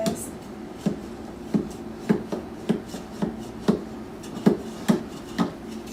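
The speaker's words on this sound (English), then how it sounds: "you want to start by running a knife alongside the pan to loosen the sides" A knife scraping around the inside edge of a metal tube cake pan, with a steady series of short scraping strokes roughly every half second, close and moderately loud.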